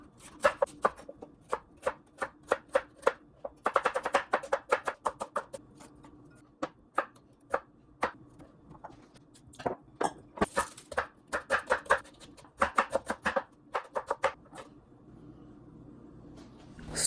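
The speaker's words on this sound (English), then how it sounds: "I like the vegetables to be nearly melted, so I cut them finely." A knife chops vegetables finely on a cutting board for a Japanese curry stew, with rapid bursts of crisp taps, short pauses between runs, close and clear with no talking.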